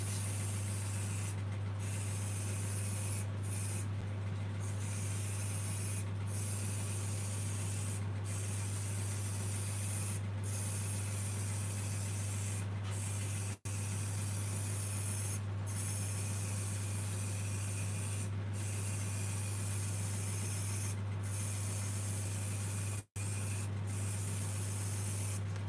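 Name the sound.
spraying with the grain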